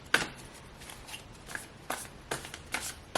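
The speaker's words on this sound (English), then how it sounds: "So I'm going to be shuffling on camera today." Tarot cards being shuffled by hand, a series of soft papery riffles and slaps repeating roughly every half second, close and fairly quiet with no talking.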